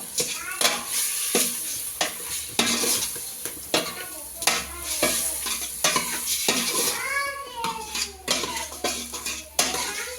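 Mutton and boti (goat tripe) being stirred with rock salt in a pan, with repeated scraping and clinking strokes of a spoon over a steady sizzle, close and fairly loud, no talking.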